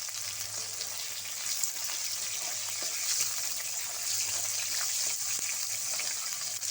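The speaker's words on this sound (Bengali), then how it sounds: "এবার আমি তেলের মধ্যে দিয়ে দিচ্ছি টমেটো কুচি।" Chopped tomato dropped into hot oil with whole cumin seeds, giving a steady, close, hissing sizzle that holds evenly throughout with no talking.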